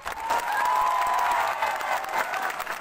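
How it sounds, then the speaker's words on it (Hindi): Applause from an audience at a political rally, a continuous wash of clapping with some crowd noise, steady and moderately loud throughout the short stretch. "हंसों के लिए भी ताली मारो"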